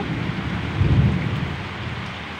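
Steady rain pours down during a thunderstorm outdoors near a tall flowering tree, with a low thunder rumble swelling briefly near the middle under the constant hiss of rainfall.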